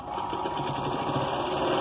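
A sewing machine runs steadily as it stitches the shoulder seam of a small girl's long dress, giving an even, close, continuous mechanical whir with no speech.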